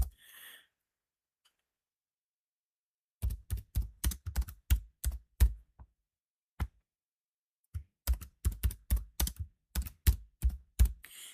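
Keys clatter on a computer keyboard while entering names into an Excel spreadsheet, two quick bursts of close, crisp keystrokes separated by a pause, with no talking.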